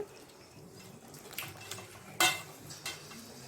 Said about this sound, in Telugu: గట్టిగా కలిపితే ఫిష్ అంతా ముక్కలు ముక్కలు విరిగిపోతుంది